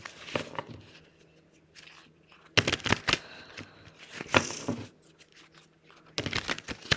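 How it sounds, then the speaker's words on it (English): A deck of cards given a ruffle shuffle, heard as several short crisp riffling bursts separated by quieter gaps, close and fairly soft. "give these a ruffle shuffle"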